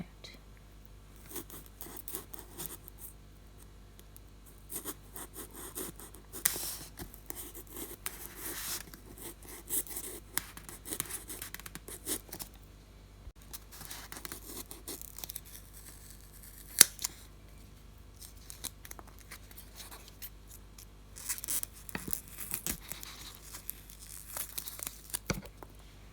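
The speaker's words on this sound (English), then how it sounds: "I'm just using a small knife to cut this section out." A small knife cuts a section from a piece of material for a rope decoration: quiet, intermittent scraping and rustling strokes with soft crinkling, close by.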